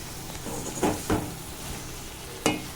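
Ridge gourd gravy simmers and sizzles in a pan while a spoon stirs it, giving a few distinct close scraping strokes over a steady bubbling hiss.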